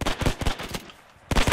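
Machine gun suppressing fire in the World War II shooter game Hell Let Loose, loud close bursts of rapid shots with a brief pause before firing resumes.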